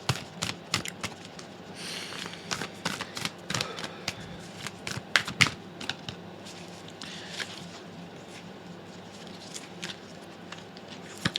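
Tarot cards being shuffled by hand close by, bursts of rapid riffling and slapping that come and go over about eleven seconds, fairly quiet and without talk.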